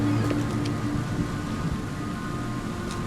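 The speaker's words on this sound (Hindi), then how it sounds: "बारिश इतनी हो रही है।" In the video game The Sinking City, heavy rain pours as a steady, dense hiss with faint low rumbles and occasional drops, continuous throughout with no talking.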